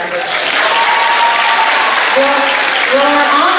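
An audience at a 2021 high school graduation ceremony claps steadily and loudly for standing honor graduates, a dense sustained applause filling the hall with a few voices faint beneath it.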